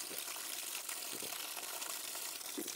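Spring water flowing straight out of the ground at a source on a rural coffee farm in the interior of Minas Gerais, a steady close rush and trickle with no talk over it.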